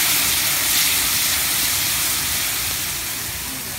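Brown sugar and butter sizzling in a very hot pan for tableside Bananas Foster, a loud steady bright hiss that fades slightly toward the end, with no voices.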